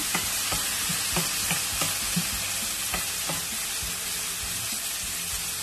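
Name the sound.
zucchini curry with chopped tomato sautéing in oil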